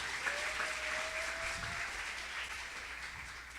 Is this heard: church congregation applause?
yes